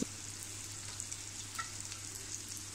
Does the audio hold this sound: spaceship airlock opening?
no